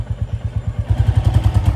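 Royal Enfield Bullet motorcycle engine thumping steadily as it is shifted into first gear, a loud, close, rhythmic low putter whose beat tightens slightly after the shift.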